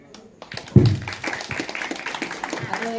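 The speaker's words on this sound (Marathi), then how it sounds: "जोरदार टाळ्या झाल्या पाहिजे" Audience applause at a Marathi village stage show swells after a quiet start into steady clapping from a crowd, with voices mixed in.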